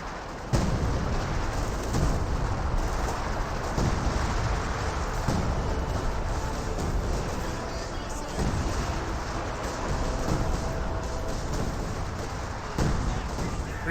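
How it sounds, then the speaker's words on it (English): Artillery barrages in a Company of Heroes 2 match, rumbling booms recurring every second or two beneath a continuous roar of battle noise, loud and dense throughout. "Got some artillery now running in."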